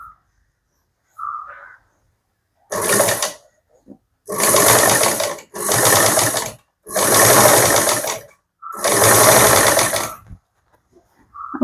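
A home sewing machine, freshly serviced and oiled, stitches in five rattling, clattering bursts. The runs are close and loud, separated by short silences, with faint clicks before the first run.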